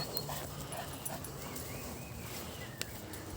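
A wolfdog whimpers softly while searching for a big stick outdoors, faint high whines over a steady background hiss, with no talk.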